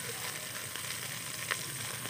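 Tinola soup with turtle meat and mudfish simmers in a pot, giving a steady bubbling, sizzling hiss close by, with one brief louder pop midway and no talking.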